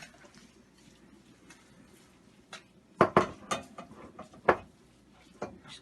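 Christmas blondie ingredients being mixed in a bowl, giving a few sharp clinks and scrapes of a utensil against the bowl, scattered and close, over a quiet room.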